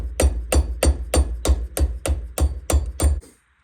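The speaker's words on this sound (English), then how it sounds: "Might need to tap it with a hammer a little bit." Nine sharp metallic hammer taps on a Polaris Sportsman ball joint in an even rhythm, close and loud, each ringing briefly before the next, then silence.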